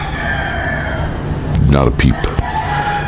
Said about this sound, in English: Roosters just started crowing.